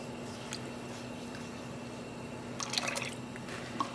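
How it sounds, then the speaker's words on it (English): Water runs and trickles into a container holding dye and guar gum, a steady low pour with a few brighter splashes and drips near the end, close by and with no talk. "I'm gonna fill this with water."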